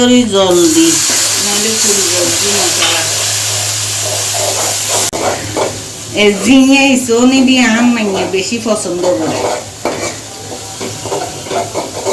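Onions frying in hot oil in a pan while Bengali-style jhinge and dried prawn shutki curry is cooked, a steady broadband sizzle under loud continuous talking throughout.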